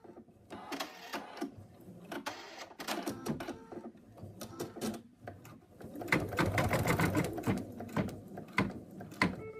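An embroidery machine stitches out the first section of a cat design, producing a fast, busy mechanical chatter of needle strokes close by that grows denser and louder toward the end.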